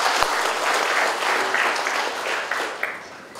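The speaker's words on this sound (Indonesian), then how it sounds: "mari tepuk tangan untuk kita semua" An audience at a government briefing in Bandung applauds steadily for several seconds, a dense, even wash of clapping at moderate volume.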